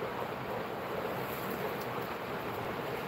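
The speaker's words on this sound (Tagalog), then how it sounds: "Lakas ng hangin." Strong wind blowing steadily, a loud broadband rush buffeting the microphone throughout, with no voices.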